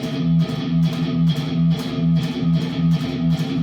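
Chugging palm-muted electric guitar repeats a tight gallop rhythm, two quick hits then a longer one, steady and loud without pause.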